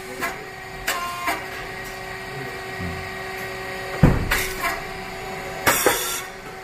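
A 45mm popped rice cake machine making popped chips runs with a steady mechanical hum and hiss, broken by several sharp bursts of pressure release and popping at irregular intervals, fairly close and loud.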